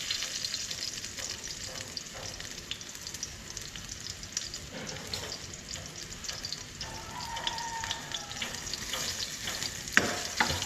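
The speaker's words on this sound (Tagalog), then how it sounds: "Ilalagay na natin mga kadidit ang bawang." Garlic frying in hot oil in a pan, a steady close crackling sizzle with faint stirring scrapes and a sharp clink near the end.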